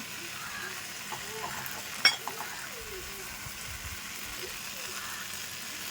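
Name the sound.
onion, tomato and masala sautéing in a pan for chicken gravy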